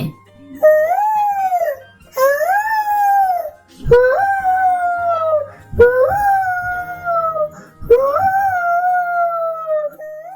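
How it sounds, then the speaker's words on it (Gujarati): A jackal howling in a Gujarati children's story about a camel and a jackal: five long rising and falling howls, loud and close, each separated by a short pause. "શિયાળનો અવાજ સાંભળીને ખેતરનો માલિક જાગી જાય છે"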